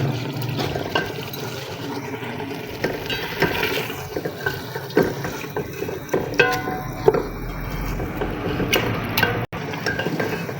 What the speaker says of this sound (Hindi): इसके अंदर ये 1 मग जो है ना मैं पानी का डाल रही हूँ